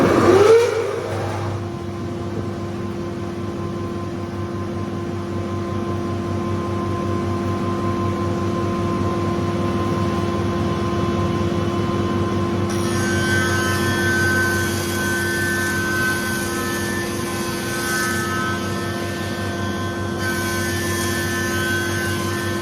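A small jointer-planer surfaces a long wooden board: a loud, steady motor drone with a hissing cutting texture that runs continuously, then changes tone partway through when the blade stops cutting.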